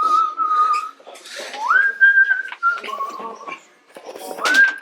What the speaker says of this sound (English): The whistling is unsettling.